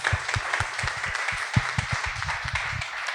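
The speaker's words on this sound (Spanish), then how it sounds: "¿Para quién pido un aplauso, por favor?" An audience at a comics event applauds, a lively round of individual claps with some loud close ones standing out, continuous for several seconds.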